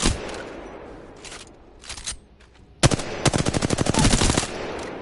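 R-301 rifle gunfire in the shooter game Apex Legends. Loud automatic bursts crackle in quick, even rhythm. Short volleys come first, then a long sustained stream of rapid shots.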